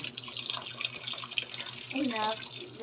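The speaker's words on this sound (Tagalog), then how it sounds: "Patay mo ng gripo, Marco." Water runs steadily from a tap into a sink, a soft continuous splashing hiss, with faint voices in the background.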